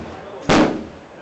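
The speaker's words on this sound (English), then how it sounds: "Nice shot." A single loud, close gunshot cracks sharply out of background noise and fades quickly, fired at an outdoor shooting session.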